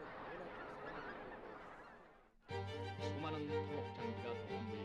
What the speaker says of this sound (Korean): 대신 논의 벽실을 먹는 오리나 기러기 등 다른 철새들이 찾고 있다.